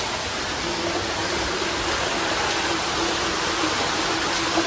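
Water flows through a narrow gutter in a Mumbai slum as a steady, close rushing hiss with no breaks, loud and even throughout, with no talk over it.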